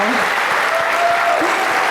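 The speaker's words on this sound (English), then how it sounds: "she should get a round of applause also" Audience at a marathon challenge awards gathering applauding in a steady, dense wash of clapping, with a speaking voice over it.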